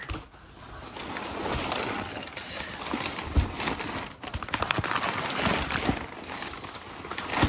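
Wrapping paper crinkles and crumples during the unboxing of motorcycle wheel parts, a steady close rustle of rough crackling that keeps going with sharper crunches and bursts of handling.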